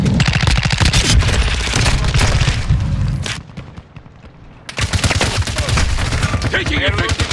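Rapid bursts of automatic gunfire in Call of Duty: Modern Warfare II Ground War rattle loud and close, break off for about a second, then resume hard and dense.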